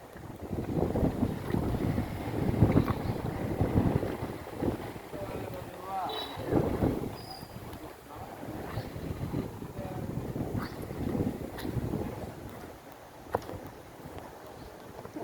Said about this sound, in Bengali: কি পরিমাণ বাতাস দেখতে পাচ্ছেন আপনারা